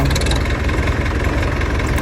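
A Mahindra DI tractor stuck in a field runs its engine hard, a steady low diesel rumble with a continuous mid-range drone that holds loud and unbroken throughout.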